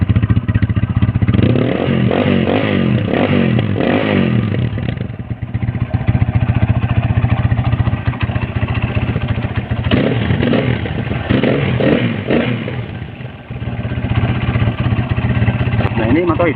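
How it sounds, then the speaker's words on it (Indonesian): A motorcycle engine runs steadily right after being started, a constant close mechanical drone with slight clatter and a faint rev, during a repair check on a bike that was hard to start when cold. "ini motor sekarang bisa hidup ya"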